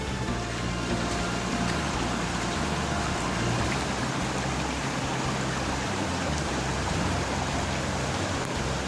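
Water rushes steadily through broken street gutters in Khaturia Colony, a continuous loud, dense hiss and gurgle of flowing runoff filling the whole stretch without pause.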